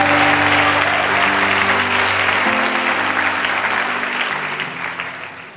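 A church congregation applauds and acclaims the Lord during a pastor's sermon, sustained crowd clapping running loud and continuous over held keyboard chords, easing slightly toward the end.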